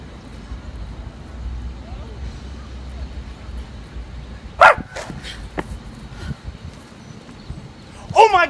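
A dog barks in a few sharp, separate bursts, one midway and another near the end, over a low background murmur with people talking nearby.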